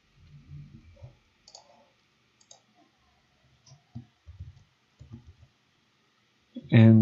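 A computer mouse gives scattered soft clicks close up, a few single clicks spaced apart, with one louder knock at the end.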